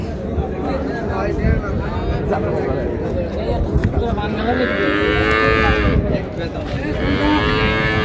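Cattle, dairy cows and calves, low repeatedly amid busy crowd chatter and haggling, with long, drawn-out moos rising over the hubbub of a lively livestock market at Raniganj.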